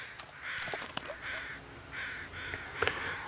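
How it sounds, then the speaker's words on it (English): Crows caw repeatedly in the survival video game The Long Dark, a series of harsh, moderately distant calls spread across a steady ambient background. "I see crows over there."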